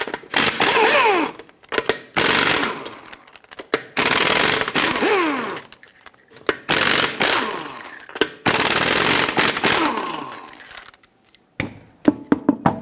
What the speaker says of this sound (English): Use a 21mm socket and take all 5 of your lug nuts off